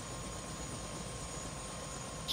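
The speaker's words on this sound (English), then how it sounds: "Chopper is so loud." A helicopter in the video game Prey flies with a steady, loud broadband rotor and engine roar, constant throughout with no voices.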